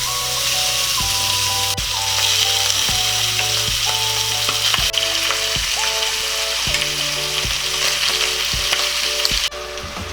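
Softened pork feet hit a hot pan and fry with a steady, close sizzle, crackling throughout, with occasional clacks of a utensil stirring against the pan.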